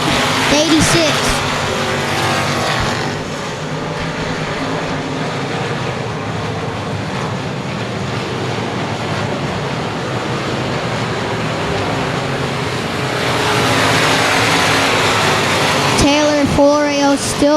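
Race cars in a three-car battle on a short speedway oval, a loud continuous engine drone that rises and falls as the pack passes, with a close sweeping pass near the end.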